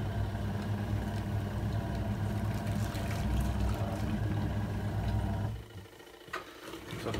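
A Costway mini twin tub washing machine hums and churns under a heavy load, a steady motor drone with a straining tone that cuts out abruptly near the end, leaving quieter background.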